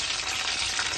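Curry leaves hit hot oil for an egg and junnu curry, giving a loud, dense, continuous frying sizzle over a single second with no voices.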